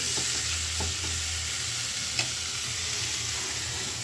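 Curry sautéing in a pan gives a steady close sizzle for about four seconds, with soft scraping stirs and one brief clink of the spoon, no voices heard.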